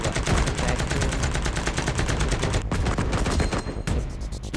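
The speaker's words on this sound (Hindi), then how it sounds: "मशीन गन चला रहा है" Rapid machine gun fire from the video game CoverFire, dense sustained bursts of loud shots with a brief gap near the end, no talk over it.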